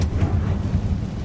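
Confringo fire spell cast in the video game Hogwarts Legacy, a steady low rumbling blast with a burst at the onset, loud and continuous for just over a second with no talk.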